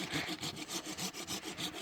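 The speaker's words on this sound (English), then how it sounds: "you can see the silky saw does a great job on these cuts" A Silky hand saw cuts through hardwood tree limbs in quick, steady back-and-forth strokes, a close rasping scrape repeating about every fifth of a second, no voices.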